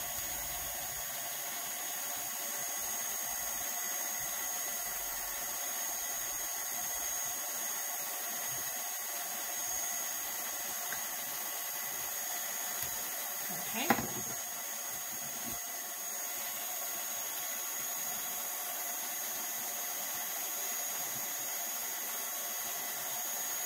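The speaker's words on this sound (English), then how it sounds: "this is not a heat gun, it's a heat tool" A handheld heat tool blows hot air to loosen tape on a charcuterie board, making a steady, continuous whooshing hiss throughout with one brief click midway.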